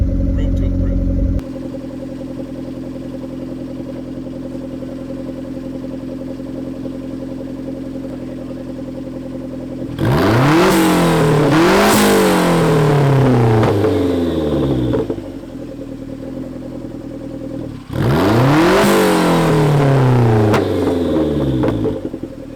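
Modified Toyota MR2 turbo engine with a water-air intercooler, heard idling loudly nearby before two hard revs that climb and fall back, each followed by turbo whoosh; a voice speaks over it.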